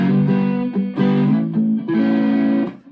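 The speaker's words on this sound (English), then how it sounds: "Sounds really broken up, farty and distorted." A Squier Classic Vibe SRV Stratocaster electric guitar plays a few loud, heavily broken-up and distorted chords in a short phrase, with the sustained notes cutting off between strums.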